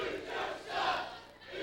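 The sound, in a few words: wrestling crowd chanting "shock"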